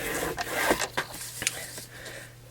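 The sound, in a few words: scoring a treat box at measured marks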